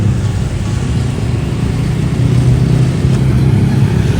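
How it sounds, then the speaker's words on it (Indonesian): A small local bus engine runs at a steady mid-pitched hum in Sumpiuh, Banyumas, with road traffic noise around it and a slight rise in loudness partway through. "Nah, ini ada bis kecil sini."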